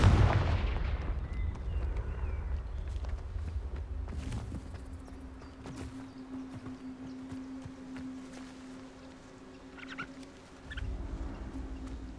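A Confringo blasting spell explodes in the video game Hogwarts Legacy, a loud booming burst at the start that decays into a rumbling tail, followed by quieter game ambience and a couple of faint effects.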